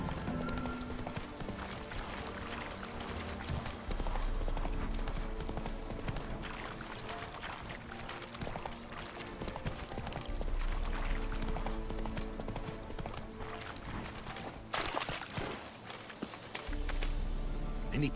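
Horse Roach's hooves clip-clop steadily through The Witcher 3, a rhythmic trot running the whole stretch over a layered orchestral game score, with no talking.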